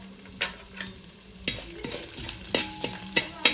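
Carrots are stirred in a frying pan, with a soft sizzle under a series of sharp spoon scrapes and clinks against the pan, irregular and close.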